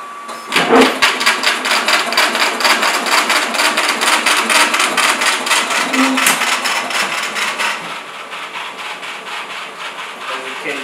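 Index Everest DV5 braille embosser running at close range, a dense, rapid train of mechanical impacts from the embossing head with a steady motor whir, quieter toward the end of the run.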